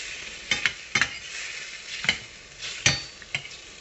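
Sautéed luffa stirred in a pan, with several sharp spatula scrapes and clacks against the metal at irregular intervals over a light steady sizzle, close up and with no talking.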